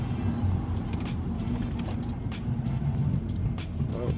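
Cabin sound of a 2008 Subaru Legacy 2.5 fitted with a Cosmo Racing intake: a steady, low engine drone and road rumble heard from inside, continuous and fairly loud.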